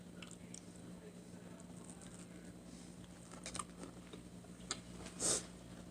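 A boiled egg is chewed close to the mic in soft, moist bites, quiet and intermittent, with one slightly louder squish near the end and a faint background hum.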